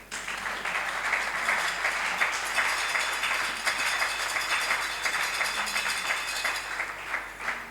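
A church congregation applauds during a sermon, with sustained dense clapping from many hands, moderately loud and steady, without talk over it.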